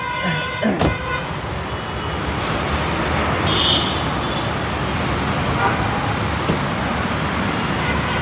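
A turbocharged 2000 cc car engine idles with a steady, low, continuous rumble, heard close up with the bonnet open amid faint traffic noise, with a couple of brief sharp knocks near the start.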